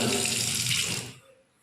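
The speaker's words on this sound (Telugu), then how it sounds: "మంచి ట్యాప్" Water runs from a kitchen tap in a house for rent, a loud, close, rushing stream that cuts off abruptly partway through, leaving near silence.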